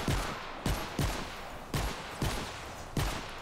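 Rapid weapon fire in the video game Fortnite: Save The World: about six sharp, evenly spaced shots ring out in quick succession, fairly loud and with no talking.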